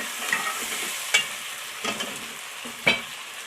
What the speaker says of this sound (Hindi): लहसुन डाला है हमने इसके अंदर अभी बस खाली, और कुछ नहीं डाला है, और इसको खूब भून देंगे।